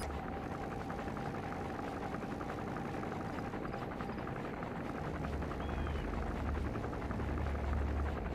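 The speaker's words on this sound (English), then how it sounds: "There's a chopper landing." Military helicopter in Metal Gear Solid V touching down, a steady loud rotor thrum and engine whine holding for the whole stretch, with the low rumble swelling toward the end as it settles close by.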